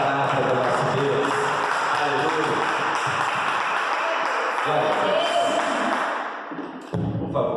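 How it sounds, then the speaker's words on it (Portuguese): A congregation claps at a Protestant church service, with dense, steady applause that fades near the end. "Vamos dar palmas à palavra do nosso Deus."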